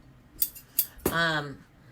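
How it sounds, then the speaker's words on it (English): A couple of quick metallic snips of sharp scissors cutting fabric, followed by a short squeaky or voiced sound, in a quiet room. "I know these scissors are super sharp."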